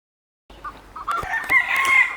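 A rooster in a neighbour's garden crows loudly in the early morning in Belgium, one drawn-out call that swells steadily after a short silence, with scattered clucks and no speech.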